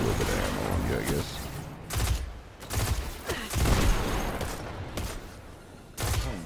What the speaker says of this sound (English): I'm having trouble shooting things through moving bars